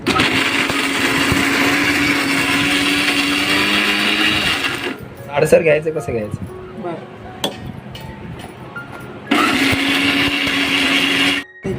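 A mixer grinder whirs loudly grinding coconut, chili, ginger, garlic and roasted gram, stops while someone speaks briefly amid clinks, then starts grinding again at full roar.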